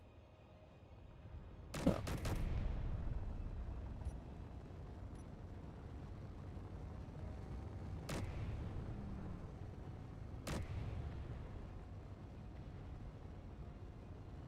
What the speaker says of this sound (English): I hear gunfire. Who is gunfiring?